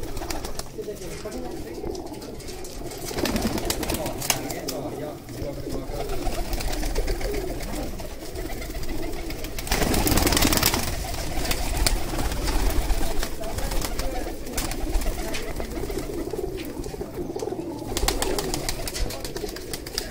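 Low, soft cooing of breeder pigeon pairs murmurs throughout, overlapping into a continuous burble with some background noise and talk mixed in.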